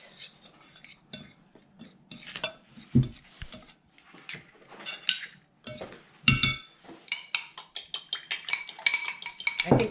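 Seasoning of black pepper powder and salt being mixed in a bowl for anchovies, a string of light clinks and scrapes of a utensil against the bowl, irregular at first and then quickening into rapid taps, close and without talk.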